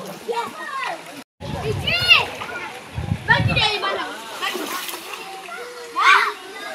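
Children play and splash while bathing in a river beside a riverside pizza eatery, with shrill kids' voices and chatter over choppy sloshing water, one short silent break, and bursts of splashing close by.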